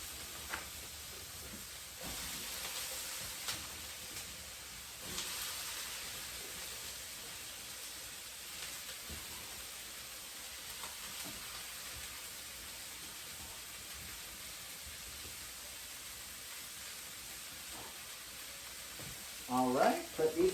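Tofu, carrots and broccoli searing in a hot pan give a steady close sizzle with occasional stirring scrapes and brief bursts of louder hiss, and a few clatters come near the end.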